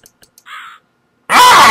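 A crow in the puzzle game Rusty Lake: Roots, heard after a few soft clicks and a short chirp, gives one loud, harsh, close caw that fills the end.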